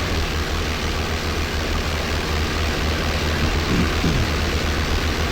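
Steady drone of a P-38 warbird's piston engines in flight in the Aerofly FS 4 simulator over the Grand Canyon, a constant loud low rumble with no pauses.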